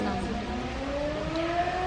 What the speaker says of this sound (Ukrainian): Така вона якась неприємна, ну, ця сирена взагалі.